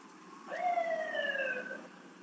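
A distant ambulance or fire truck siren wails once during street protests, a rising and falling tone heard faintly over low background hum.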